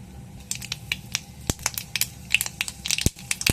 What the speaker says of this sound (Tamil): கடுகு, கடுகு பொரிஞ்சோட்டி